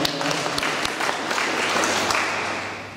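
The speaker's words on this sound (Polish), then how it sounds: "Wielkie brawa dla Faustyny" An audience at an exhibition opening ceremony applauds a young violinist with a dense, sustained round of clapping that slowly tapers off.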